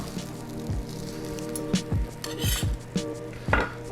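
Oven-roasted potatoes being smashed flat in a kitchen, with several sharp knocks and clatters of utensils and dishes spaced irregularly over a steady low hum, close and fairly loud, no talking.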